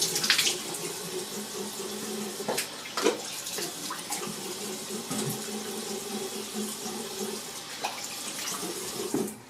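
Water runs from a tap in a steady splashing stream during a wet face shave, with occasional knocks and clatters, no speech.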